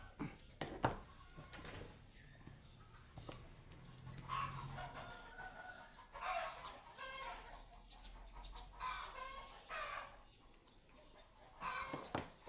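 A rooster crows loudly over a busy farmyard with clucking hens and other birds, the calls repeating across the stretch.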